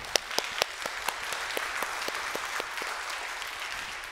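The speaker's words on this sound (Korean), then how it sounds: "하나님께 영광을 박수 올려드릴까요?" Applause from a congregation during a church anniversary thanksgiving service, a soft, distant, sustained wash of many people clapping, with a few sharper claps standing out near the start.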